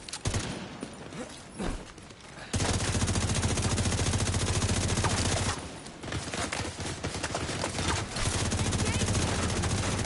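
Sustained automatic gunfire in The Division 2, dense rapid bursts of rifles and machine guns rattling loudly for long stretches with brief lulls between volleys.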